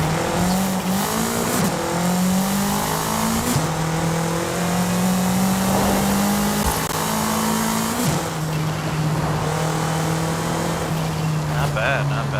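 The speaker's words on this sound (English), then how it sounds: "the engine sounds pretty good." A drag-tuned, 600-horsepower Toyota MR2 in the video game Forza Horizon 5 revs loudly, its engine tone climbing and dropping through several gear shifts, with a constant high-pitched whine.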